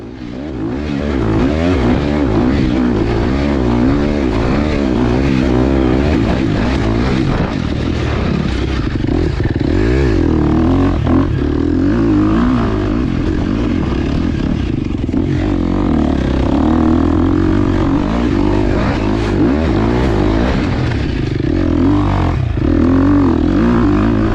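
A dirt bike fitted with studded snow tires laps a sand track, its engine droning loud and steady throughout with rising and falling revs and clattering from the chassis, heard close from the rider's position.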